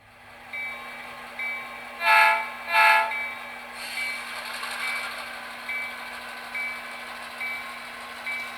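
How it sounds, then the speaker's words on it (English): A model train runs on a layout during an operating session, with a steady electrical hum, repeated beeping tones and two loud horn blasts in close succession, the horn sounding again faintly afterward, and no voices. "now that our train is heading down the tracks to its destination"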